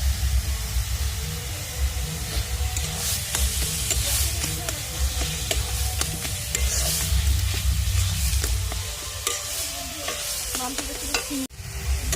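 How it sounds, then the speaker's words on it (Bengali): Ground flat-bean paste with salt and turmeric frying in a pan, a continuous close sizzle with stirring scrapes throughout and a brief knock near the end, no talking. "এটা আমি কিছুক্ষণ ধরে ভেজে নেবো"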